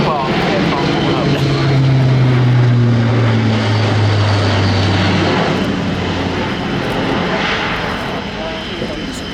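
Airbus A400M military transport turboprop at the RIAT 2016 airshow, its propellers droning loudly and steadily with a slowly falling tonal hum over a broad roar.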